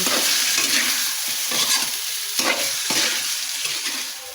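Food being stirred in a hot frying pan: a steady sizzle with repeated scraping strokes of the utensil, close and fairly loud, with no talking.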